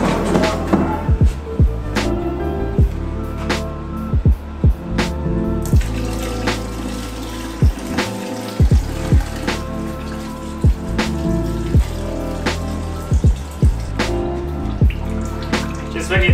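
Fluid drains from an RB25 engine block onto a shop floor in irregular close drips and splats over a steady trickling background.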